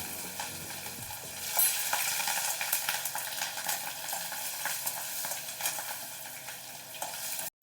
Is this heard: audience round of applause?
no